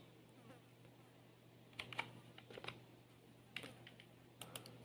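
Someone typing on a computer keyboard during a basic computer lesson: a few scattered, faint key clicks in small clusters over a quiet room hum.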